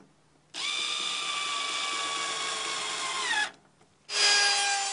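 A Black and Decker KW900EKA 1200 W router cuts wood with a loud, high, steady whine that holds for about three seconds, drops away, then starts up again sharply near the end.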